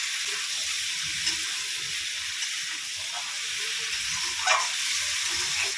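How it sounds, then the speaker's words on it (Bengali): Ridge gourd fries in spice paste for a rohu fish curry, giving an even, soft steamy hiss that stays level throughout with a brief brighter flare midway. "এবার আমি ঝিঙেটা দিয়ে একটু কষিয়ে নেব"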